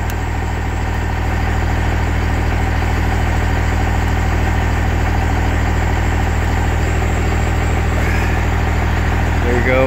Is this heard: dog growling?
no